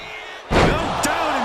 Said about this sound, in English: Oh, walloped by a huge club.